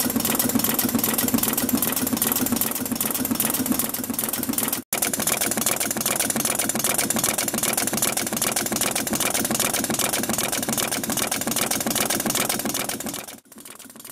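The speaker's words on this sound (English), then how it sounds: "start the machine running" A Kibby G5 carpet tufting machine runs with a steady, loud mechanical chatter and hum, making variable pile heights in blue and grey yarn. It is interrupted by two brief dropouts, and nobody speaks.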